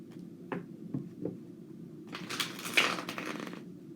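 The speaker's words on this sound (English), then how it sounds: "I'm going to give them a good shuffle here." Tarot cards from a Souls on Fire deck are shuffled nearby, with a few soft taps first and then a longer crisp riffling burst lasting about a second and a half before it fades.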